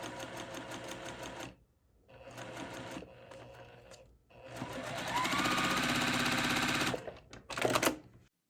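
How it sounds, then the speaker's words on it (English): A sewing machine stitches a quarter-inch seam on a quilt block, running in close, loud bursts of rapid mechanical clatter separated by brief pauses, with a longer steady run near the end. "take this to your sewing machine and sew it with a 1/4 inch"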